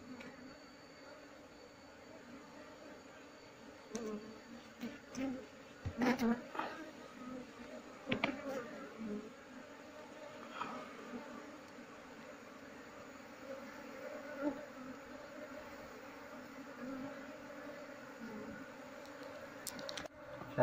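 Bees swarm around an opened hive, giving a faint, steady low buzz throughout, with a few sharper knocks and rustles and a person talking nearby.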